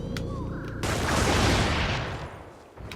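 Machine gun fire in a video game: a sustained, roaring burst of rapid shots swells loud for over a second, then tails off into quieter background noise.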